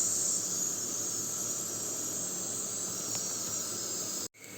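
Water boiling to steam tlitli, a couscous-style pasta: a steady high hiss and faint bubbling simmer, close and fairly quiet, broken by a brief cut near the end.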